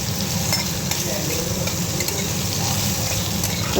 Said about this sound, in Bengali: বেগুনটা বেশি ভাজবো না হালকা ভাজবো